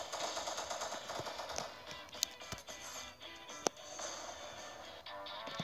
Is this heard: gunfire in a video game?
yes